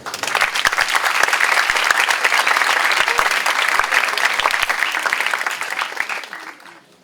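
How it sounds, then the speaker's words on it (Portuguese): An audience at a Brazilian lecture gives a warm, sustained round of applause, with many hands clapping loudly for about six seconds before it tapers off into quiet. "E aplausos, por favor"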